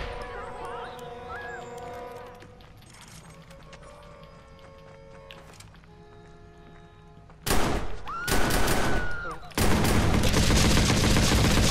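Pistol gunfire in the Watch Dogs video game, with loud bursts of shots in the later part following a quieter stretch of game ambience, tones and muffled effects.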